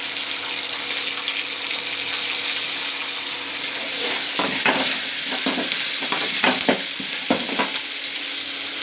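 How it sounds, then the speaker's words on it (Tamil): A tempering with asafoetida frying in a pan for temple-style tamarind rice, a steady bright sizzle that turns busier halfway through with a series of stirring scrapes and clinks, close up, with no speech. "பாருங்கள், நல்லா ஃப்ரை ஆகிடுச்சு"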